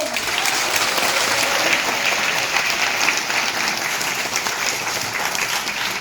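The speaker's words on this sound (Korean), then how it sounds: "여러분 큰 박수!" An audience at a forum on reviving underground shopping arcades in Incheon and Bupyeong gives a big round of applause as a lawmaker is introduced to speak. Loud, continuous massed clapping holds steady throughout.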